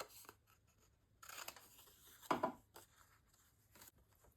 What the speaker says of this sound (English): Then I'm going to take my scissors and miter these corners on these 1/2 inch tabs.